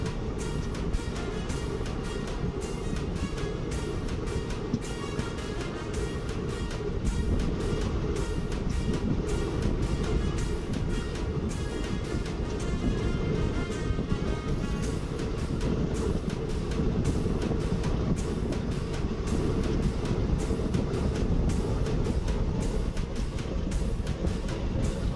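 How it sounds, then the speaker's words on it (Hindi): A steady, dense rumble of the Sambalpur-Shalimar Superfast Express rolling slowly through Bastar railway station, with continuous rhythmic clatter and no voices. "अभी अपनी ट्रेन बस्तर रेलवे स्टेशन को धीमी रफ्तार में स्किप कर रही है"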